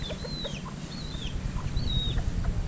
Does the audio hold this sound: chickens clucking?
yes